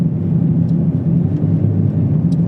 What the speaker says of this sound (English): there's a very distinct grinding sound coming from the front driver's side tire